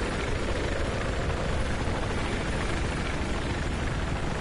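A helicopter in Battlefield 4 flies with a steady, dense rotor and engine roar that holds at an even, loud level throughout, with no voices.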